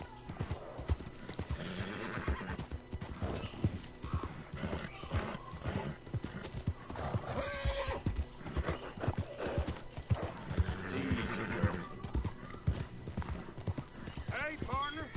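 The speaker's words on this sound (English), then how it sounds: "The horse riding." Rhythmic clip-clop of horse hooves during riding in the Red Dead Redemption video game, steady trotting beats with occasional neighs and whinnies, a voice talking over it at times.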